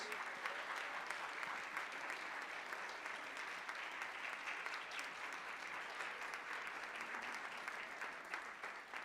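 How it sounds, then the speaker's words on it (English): Steady applause from an audience at a board of education meeting continues evenly for about nine seconds, heard at a distance and fairly faint, with no voices over it. "Let's give him a round of applause."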